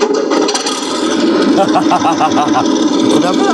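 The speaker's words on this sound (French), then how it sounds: "la turbine de lancement du démarreur" A loud, steady mechanical whine and rumble fill the space, an engine starter's launch turbine spinning up with a continuous droning roar and rising tonal hum.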